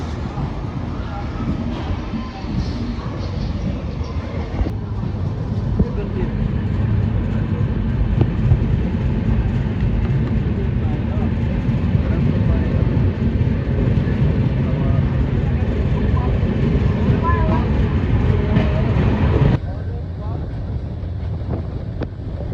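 The Swaraj Express, train 12471 from Bandra Terminus to Shri Mata Vaishno Devi Katra, pulls out of Kota Junction with a loud, steady rumble of wheels and rushing wind noise that holds throughout and eases slightly near the end.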